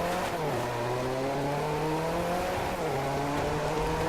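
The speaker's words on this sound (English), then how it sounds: "I really like the engine noise of the Lykan Hypersport" The Lykan Hypersport's engine roars in the Driveclub racing game, revving and holding a strong, steady tone with a couple of gear shifts, loud and close with no talking.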